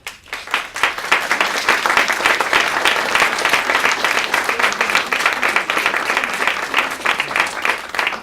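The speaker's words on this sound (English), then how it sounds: "big round of applause" A gala audience breaks into sustained applause for the executive director, a dense, steady wash of many hands clapping that holds at full strength from start to finish, with no voices rising above it.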